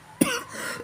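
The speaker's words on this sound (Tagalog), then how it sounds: "Inuubo lang ako." A person with a cough that has lasted five days gives one sharp, close cough followed by a short raspy exhale.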